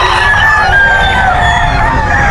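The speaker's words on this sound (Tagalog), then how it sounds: "Dami ng manok dito na." Chickens at a crowded Bocaue pet market cluck and crow close by, a dense overlapping chorus of fowl calls filling the whole moment.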